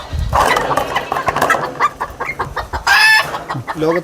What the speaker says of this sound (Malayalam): ഏറ്റവും ചെറിയ കോഴി.